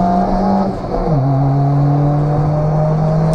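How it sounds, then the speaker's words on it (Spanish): A naturally aspirated Chevrolet Corsa engine hums steadily, close and loud, then drops in pitch as the gear changes and settles into an even drone. "Me parece que los aspirados suenan mejor que los turbocargados, el sonido de motor es más puro."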